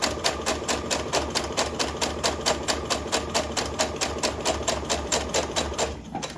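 Domestic sewing machine running a back stitch along a drawn line on fabric for a phone pillow holder, a steady rapid needle chatter with a brief pause and change of pace before stopping, close and clear with no talk.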